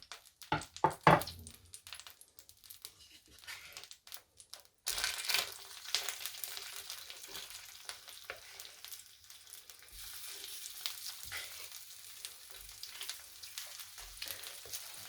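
Beetroot vegan burger patties sizzle in a pan: some scraping and clattering first, then a steady, moderately loud frying hiss that continues without talk.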